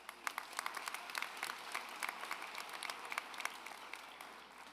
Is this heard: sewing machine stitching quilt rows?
no